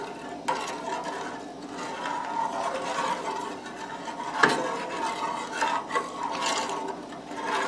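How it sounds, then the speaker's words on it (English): Chicken corn chowder being stirred in a pot with a spoon, a steady soft scraping and swishing with a single sharper clink of utensil against the pot partway through; no voices. "I'm just going to stir that up."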